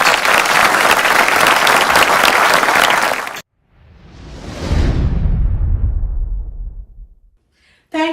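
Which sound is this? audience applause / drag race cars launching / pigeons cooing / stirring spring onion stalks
audience applause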